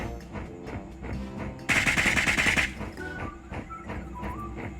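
Rapid automatic gunfire in the cartoon battle-royale game Sausage Man, a loud dense burst of about one second standing out over steady game music and effects.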